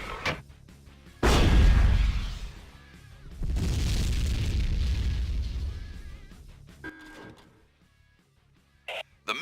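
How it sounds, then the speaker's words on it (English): A heat-seeking missile launcher fires in the PS2 video game Tribes Aerial Assault, giving loud booming launches with a sustained rushing roar, followed by quieter clicks and faint later pops. "The missile launcher fires a heat-seeking missile that can lock onto larger enemy assets, such as turrets"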